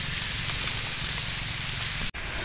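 Rain falls steadily outdoors in a mountain forest during mushroom picking in Thailand, a soft, even hiss that stays faint and unbroken apart from one brief dropout.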